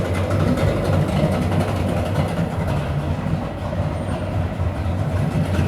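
A 2003 Suzuki 150HP two-stroke outboard engine idling in a water test tank, a loud continuous low rumbling drone with a busy churning texture, close and steady with no talk.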